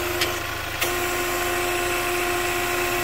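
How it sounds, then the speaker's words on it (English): Vacuum pump for the brake booster on a Kia whirs steadily under the engine idling, a constant mechanical hum with a couple of faint clicks near the start and no talk. "you'll hear the backing pump go."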